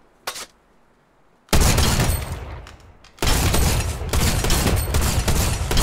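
A drum shotgun firing small shots at a video game shooting range: a short blast, then two long rapid-fire bursts of dense crackling shots, loud and close, with no talk over them.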